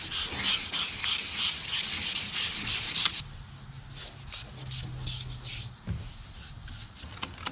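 Close, steady rasping of hand sanding with 400 grit sandpaper on the taped-off aluminum side of an airboat, loud and continuous, easing slightly partway through, with no voices.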